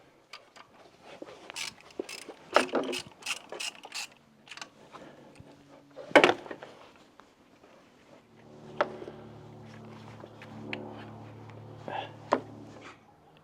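A ratchet works loose the bolts on a Jeep's failed OEM alternator, giving bursts of close, sharp clicking and metallic clanks with a creak midway, followed by a low steady hum under scattered clicks.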